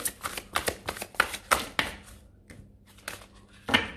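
Tarot cards being shuffled and drawn up close, a quick series of crisp riffling flicks and snaps that pause briefly before a few more slaps, with no talking.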